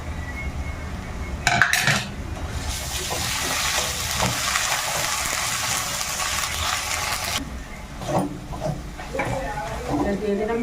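Ginger paste frying with onions and garlic in a pan for a mutton curry, with clattering utensil and pot knocks, then a steady hiss of frying, and more clanks near the end.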